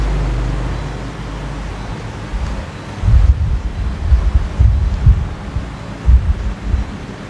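Low, rumbling wind from an electric fan buffeting a Takstar SGC-600 condenser microphone, a steady roar that swells into heavier gusty thumps partway through, no voices.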